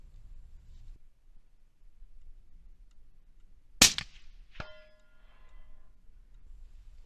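A suppressed centerfire rifle shot through a Nosler SR suppressor: one sharp, loud report over quiet outdoor background, followed less than a second later by a brief ringing metallic impact.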